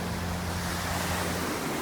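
Ocean waves wash onto a beach in a dense, continuous roar of surf with heavy wind rumble against the microphone, loud and steady throughout with no voices.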